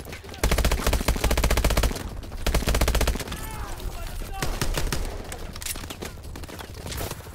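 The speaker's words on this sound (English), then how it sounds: "This pistol feels so weak, even though it's like a 45" Rapid pistol gunfire from a .45-caliber handgun in the video game Call of Duty: Advanced Warfare, a loud run of sharp shots in the opening seconds followed by more scattered shooting amid busy game action.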